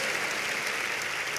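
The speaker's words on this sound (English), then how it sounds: "Give the Lord a big clap offering and get seated." Dense, steady clapping from a church congregation at a miracle service, a short burst of applause heard alone without talk.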